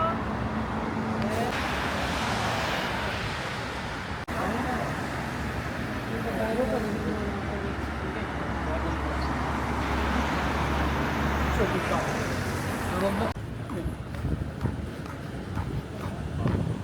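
Road traffic at a street crossing with automatic signal lights, where passing cars make a continuous nearby roar that swells and fades, with voices in the background.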